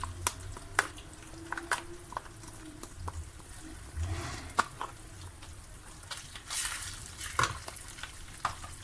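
Meat sizzling and frying in a pan for a Turkish celery stew, with a steady crackle broken by sharp stirring clatters and scrapes of a utensil against the pan, close and moderately loud.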